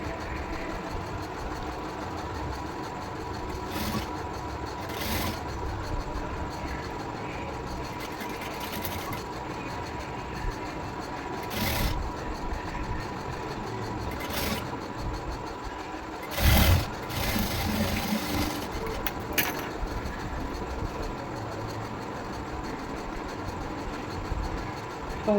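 A sewing machine stitches a single-dart seam on a blouse, a steady low mechanical whir running throughout with a few brief louder bursts, fairly faint and with no talking.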